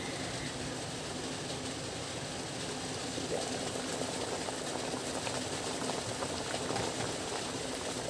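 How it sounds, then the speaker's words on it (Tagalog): A pot of vegetable stew with okra and eggplant at a steady boil, a continuous low bubbling and simmering hiss that stays even and moderately quiet throughout, with no talk. "at kumukulo na"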